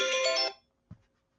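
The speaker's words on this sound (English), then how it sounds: "That was my phone." A mobile phone ringtone sounds indoors, a bright tonal chime lasting about half a second before cutting off, followed by a short soft thump, then quiet.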